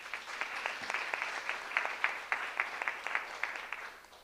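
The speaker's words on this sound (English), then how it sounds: "So round of applause for Isaac Gordon." Applause from an audience at a school board of education meeting honoring a state track medalist, a quiet, fairly sparse patter of hand claps with scattered sharper claps, moderately distant, lasting the full stretch.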